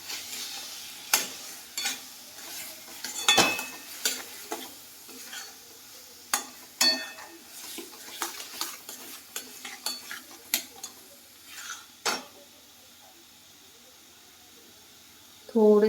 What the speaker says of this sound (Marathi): हे छान परतून घ्या.